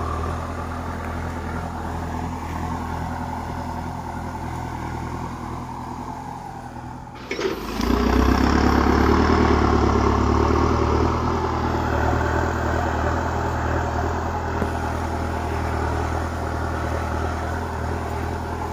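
A Kubota M6240 tractor engine chugs steadily at close range while plowing, then grows noticeably louder and fuller partway through and keeps running without pause.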